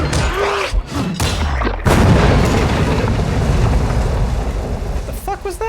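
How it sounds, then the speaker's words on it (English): Cannon fire in a video game, a heavy boom from a gun placed on a nearby building, loud and close, followed by rumbling blast noise and scattered smaller reports, with brief voice chatter. "They put a cannon on a nearby building."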